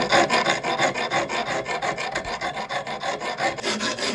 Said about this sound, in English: we are just using this coarse file. We're just coming in here and actually it's removing the material pretty well